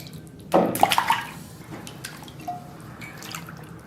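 Cow hooves are rinsed under running water, with a burst of splashing and pouring near the start that fades to scattered drips and faint trickling.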